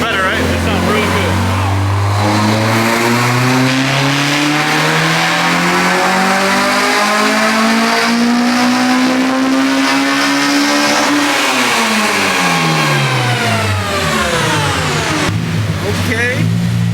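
A Honda Civic EG hatch's K20A2 with individual throttle bodies pulls hard on a dyno, engine note rising for about eleven seconds then falling back, loud and near with people talking over it.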